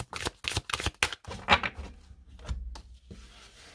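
A deck of tarot cards is shuffled by hand close up, a quick series of crisp riffling bursts followed by softer sliding and tapping as the cards settle, with no one talking.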